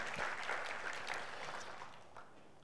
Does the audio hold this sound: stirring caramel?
no